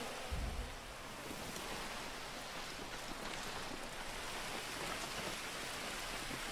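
Steady hiss of rainfall in GTA Online, a dense even wash of drops with no other sounds.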